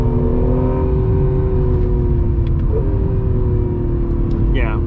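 A 2020 Acura NSX supercar pulls hard under acceleration in Sport Plus mode, its engine note climbing steadily as a loud, continuous rumble with rising tonal whine throughout.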